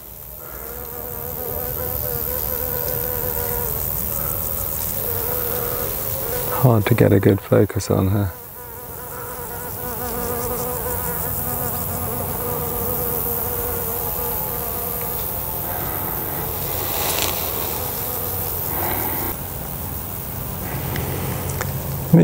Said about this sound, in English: There's a leaf cutter, solitary bee.